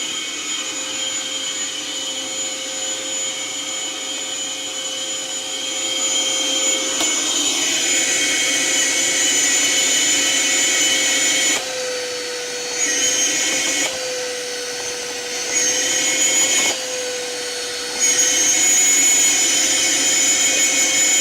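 A vacuum cleaner with a clogged hose runs with a loud, steady whine and airy roar, its tone shifting several times as suction changes from the blockage.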